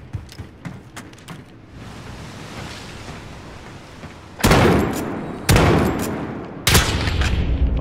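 Gunshots in the Call of Duty: Modern Warfare video game: scattered sharp cracks at first, then three loud, heavy blasts spaced about a second apart, each trailing into a rushing roar.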